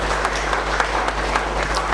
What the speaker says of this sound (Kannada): ಜೋರಾಗಿ ಚಪ್ಪಾಳೆ ಹೊಡಿಬೇಕು